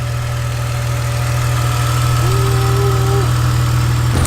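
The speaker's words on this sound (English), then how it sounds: "It used to have a hiccup at idle. Probably because of the rip in the intake or from the vanos. Now it's idling great." A BMW engine idles steadily and smoothly up close, a low even rumble with no hiccup, after repairs to a torn intake and the VANOS system.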